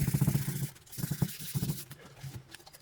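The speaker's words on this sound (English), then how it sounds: "I'm really curious to see how the hone cleans these things up." A hone works over rusty VW engine parts, making rhythmic scraping and rubbing strokes in short bursts with brief pauses, close and moderately loud.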